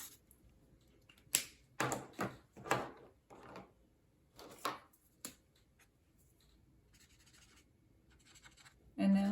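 ARRTX alcohol markers shading a dress drawing on paper, faint scratchy strokes in short bursts of several quick passes, then pauses over a quiet room hiss.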